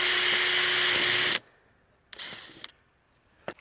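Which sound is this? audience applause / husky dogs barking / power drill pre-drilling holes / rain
power drill pre-drilling holes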